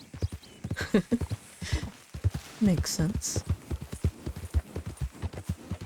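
Horse hooves clip-clop in a quick, steady rhythm in Red Dead Redemption 2, the horse wearing a panther saddle, with a voice talking over the hoofbeats.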